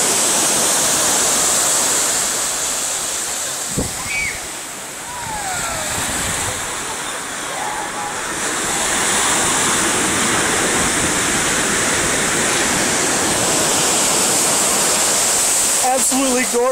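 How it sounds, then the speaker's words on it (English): Surf rolls in on a highly rated beach, a broad, steady wash of breaking waves close by and loud, with brief faint sounds over the continuous roar. "I'm at one of the best beaches in the world"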